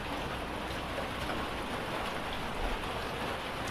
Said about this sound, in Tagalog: umuulan pala mga kaibigan, umuulan. Yan, umuulan sa labas.